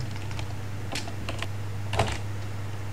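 Password being typed on a laptop keyboard: a few soft key clicks and taps, close by, over a steady low electrical hum.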